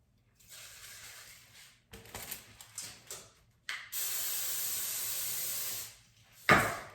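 Several short hissing bursts of an aerosol can of cooking spray close by, then one long steady spray lasting a couple of seconds, ending in a brief sharp hiss.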